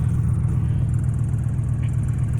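The air conditioner of a customized Chevrolet truck runs with a steady, low, rumbling hum, a close, constant drone with little change over a few seconds.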